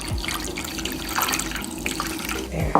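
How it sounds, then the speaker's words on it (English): Water runs from a tap into a container, filling it for drinking in a home kitchen, a steady close pour with small splashes and a brief clunk at the end, no talk. "And then I'm gonna fill this up to the top with water."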